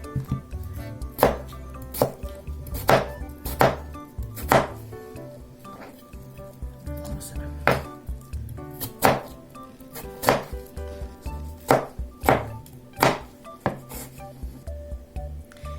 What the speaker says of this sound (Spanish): Ya que tenemos bien peladitas nuestras papas, vamos a empezar a picarlas.